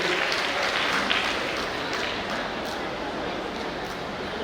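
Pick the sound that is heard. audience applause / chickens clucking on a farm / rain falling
audience applause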